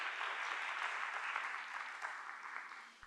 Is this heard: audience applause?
yes